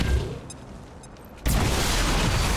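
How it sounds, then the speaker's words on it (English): A sudden loud blast of XCOM 2 game explosions, including secondary explosions, bursts in after a quieter stretch, continuing as a dense, rumbling roar. "Actually, secondary explosions."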